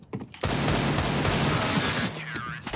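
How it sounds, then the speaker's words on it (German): Dense, sustained burst of rapid gunfire in the video game Counter-Strike: Global Offensive that starts abruptly, loud and close, tapering slightly near the end. "Wieso gehen die Schüsse durch ihn?"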